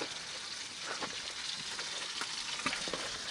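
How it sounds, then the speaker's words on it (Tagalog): Fish fries in a pan, giving a steady close sizzle with irregular crackles and pops throughout, fairly quiet and with no voices. "May piniprito ng isda."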